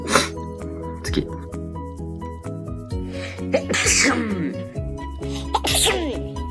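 A man's deliberately funny, exaggerated sneezes, several bursts with a loud explosive one near the end, close and clear, each breaking through vocal sounds of buildup and strained noises.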